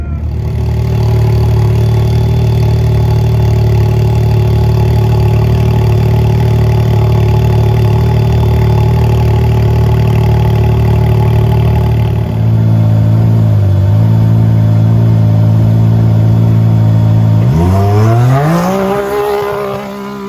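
An off-road race vehicle idles loudly at the Parker 250 start line with a steady engine drone, then revs and accelerates away in a rising, climbing roar near the end.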